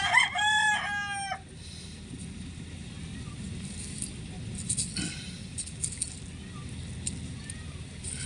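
A rooster crows loudly and close for about a second, followed by a quieter stretch of low background rustle and scattered faint clucks from chickens at a garden plot.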